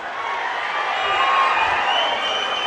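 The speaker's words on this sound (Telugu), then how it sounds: "గట్టిగా చప్పట్లు కొట్టి అభినందించడం" A large crowd at a public meeting applauds in a broad, sustained wash of clapping that holds steady and swells slightly midway, heard from within the hall with no clear speech over it.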